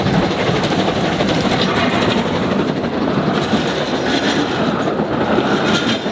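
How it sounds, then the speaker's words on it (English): An Isle of Man steam railway train rolls past a manual level crossing gate, loud and close, with a continuous rumble and rhythmic clattering of wheels over the rails throughout. "because the train coming that way is coming through"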